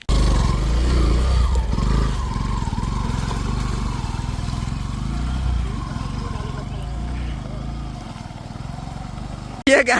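A motorcycle engine idles and revs steadily and loudly as the bike is walked across a rough stretch on the way to Mangleshwar temple in Sonbhadra, Uttar Pradesh, with a sharp clunk near the end.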